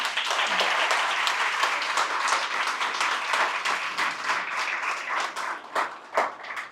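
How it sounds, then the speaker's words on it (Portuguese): A church congregation applauds during a Sunday worship service, dense steady clapping from many hands at moderate distance that thins and breaks into a few scattered claps near the end. "Você pode aplaudir o Senhor?"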